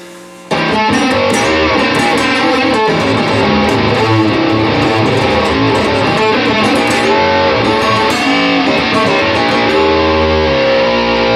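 An electric guitar with heavy distortion and a wah pedal set to its low position plays continuously and loudly, a busy sustained riff with no talking.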